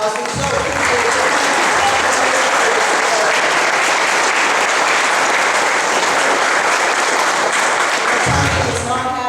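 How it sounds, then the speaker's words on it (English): Audience applause at an eighth-grade graduation ceremony, a dense, loud, steady wash of many hands clapping that lasts nearly the whole stretch, with some cheering mixed in before it cuts off near the end. "Another round of applause."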